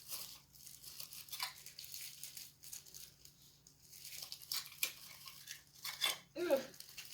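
A plastic bag is handled in intermittent, quiet crinkling and rustling bursts that grow sharper near the end, with a faint voice now and then in the background.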